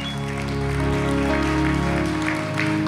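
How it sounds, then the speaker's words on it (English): A church congregation claps together during a worship service, a steady wash of hands heard beneath sustained musical tones that hold throughout. "Let's give the Lord a hand clap tonight."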